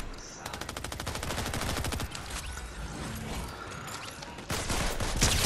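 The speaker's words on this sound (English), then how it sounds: "I'm getting shot at" Gunfire in the video game Fortnite, rapid automatic bursts in a fast rhythmic stream followed by sharper shots and mechanical clatter, loud and close, with game sounds layered over it.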